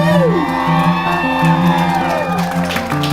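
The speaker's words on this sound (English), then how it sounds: "Big round of applause for Autism Speaks" Crowd at an Autism Speaks walk whooping and cheering loudly and close, drawn-out shouts and yells over music, with applause rising near the end.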